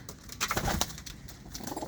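Pigeons coo close by at a rooftop loft under netting, soft throaty calls layered with faint rustling and brief wing sounds, with no voices.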